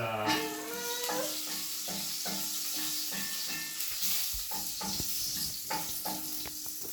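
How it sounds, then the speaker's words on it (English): Continuous crackling sizzle of tomatoes frying in a pan, with repeated clinks and scrapes from stirring throughout, fairly close and with no talking. "so we are frying now"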